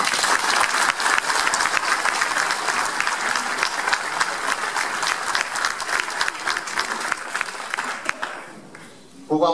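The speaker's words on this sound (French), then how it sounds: "et on peut l'applaudir." Audience applause during a speech at a union gathering about saving a factory's jobs, sustained loud clapping from a large crowd that fades out near the end before a voice returns.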